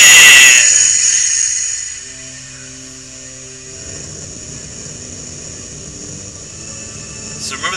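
PK Rocket attack effect from the video game Mother 3 opens with a bright, loud electronic burst that decays into a lingering hum, then softer tonal layers and a low rumbling texture with a small flare at the end.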